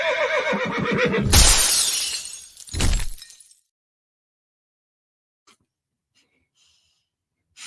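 A horse neighs and whinnies loudly, then a glass-like shattering crash and a short breathy burst follow before near silence with faint ticks.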